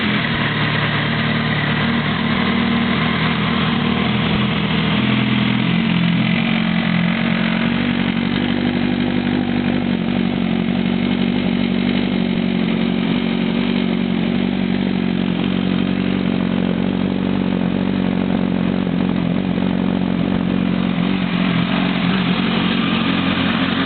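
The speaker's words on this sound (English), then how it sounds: "if you listen to how quickly this bike starts" A 2006 Kawasaki ZX10R sportbike fitted with a small shorty battery fires up and settles into a steady, buzzing idle that carries on evenly, close by and with no voices.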